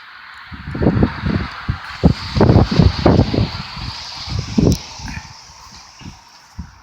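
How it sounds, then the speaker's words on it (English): Strong wind in a snowstorm hisses steadily and pounds the microphone in heavy, uneven gusts, loud and close, without any talking. "It's so windy I can't get the phone off."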